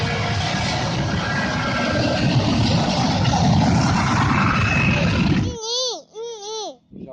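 An airplane at an airport gives off a loud, broad, sustained roar for several seconds, then falls away abruptly, leaving a voice speaking in short bursts.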